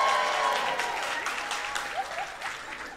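Comedy show audience cheering and applauding loudly, a dense steady wash of clapping and whoops that holds strong throughout and eases only slightly toward the end.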